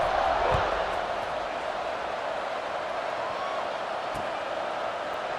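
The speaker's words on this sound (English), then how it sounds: "this crowd is buzzing after that last score" A stadium crowd in a college football video game against Boise State buzzes with a steady, broad roar of many voices at even loudness, with a few faint thumps.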